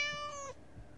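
A cat in the video game Scary Teacher 3D gives a single clear meow, a tonal rising-then-falling call lasting about half a second, close and alone, followed by quiet background.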